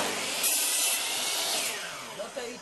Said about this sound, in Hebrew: מסור מקיטה.